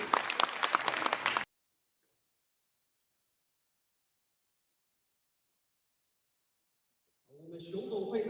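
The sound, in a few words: applause congratulating the signing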